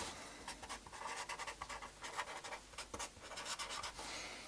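A pen scratches out a name on a strip of tape, a quiet series of short, close scribbling strokes with brief pauses between them.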